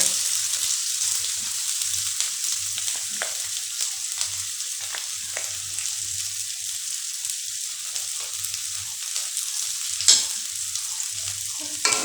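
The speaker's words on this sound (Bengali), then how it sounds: "রসুন আর পেঁয়াজটা ভালোভাবে ভেজে নেব" Chopped onion and garlic sizzle steadily in hot oil, a constant bright crackle with occasional soft stirring scrapes, no voices.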